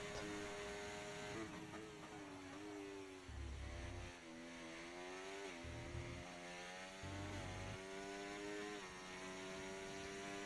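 A racing video game's onboard race car engine drones steadily through a lap, its pitch rising and dipping with gear changes and throttle, faint and continuous with no talk.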